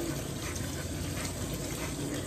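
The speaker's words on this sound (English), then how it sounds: "I'm gonna wash the strawberries one more time" Tap water running steadily over strawberries being washed in a sink, a continuous soft gushing hiss at moderate distance with no voices.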